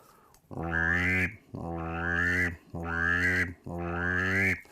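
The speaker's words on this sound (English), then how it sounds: "Mallard drake sounds something like this." Four long, steady mallard drake whistle duck calls in a row, each a rich buzzy tone with a rising edge, separated by short pauses.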